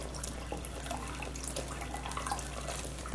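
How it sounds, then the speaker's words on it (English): Apple cider is poured slowly into a flaming rum punch, a steady soft trickle and gurgle of liquid running continuously over a low background hum, with no talking. "I have to put it out, which I'll do by very slowly pouring in the apple cider."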